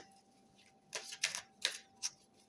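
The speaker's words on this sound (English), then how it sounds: "Just give the cards a few shuffles" A few quick, crisp riffles of tarot cards being shuffled, four short bursts in a row, quiet and close against a faint steady hum.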